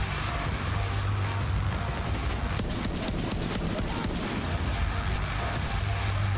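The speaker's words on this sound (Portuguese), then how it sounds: "Quanto tiro desperdiçado." Rapid gunfire from Tom Clancy's The Division 2 rattles in dense, continuous bursts of clattering shots throughout, fairly loud, with faint low voices mixed underneath.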